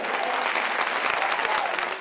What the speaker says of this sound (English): A huge crowd cheering at City Hall as Council debates the need for tougher rules governing medical marijuana dispensaries.